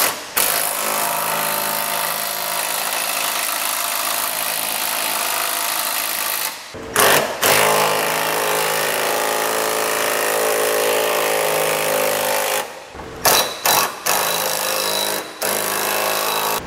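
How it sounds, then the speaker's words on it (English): A 3/4 inch socket driver snugs down Curt trailer hitch bolts on a 2015 Jeep Renegade, a loud, continuous, harsh mechanical whir that runs for long stretches and breaks off in a few short gaps. "we can use a 3/4 inch socket to snug it all down"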